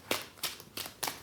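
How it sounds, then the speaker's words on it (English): Sleeved playing cards for a tournament card game get riffle shuffled gently, four evenly spaced quick riffling bursts close up, with no talk. "And I do a light rifle shuffle, I don't go crazy."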